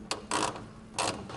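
A wrench works the headlight adjuster on an R32 GTR, loosening it with two or three short ratcheting clicks close by and fairly quiet, with no talking.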